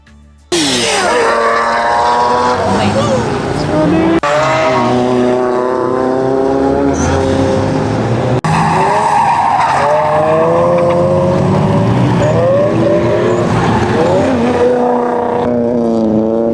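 Drift cars at a drift event at Apple Valley Speedway scream past, engines revving up and down in loud rising and falling whines, mixed with tire squeal and skidding.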